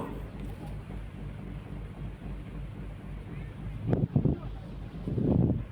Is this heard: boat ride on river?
yes